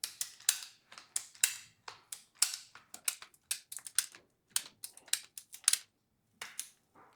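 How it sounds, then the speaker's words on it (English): A hand ratcheting cable cutter clicks shut on thick 600 MCM aluminum cable in sharp, close, irregular bursts of ticks, with short pauses between squeezes. "as I start to squeeze the handle, you can see the teeth closing and ratcheting shut one at a time"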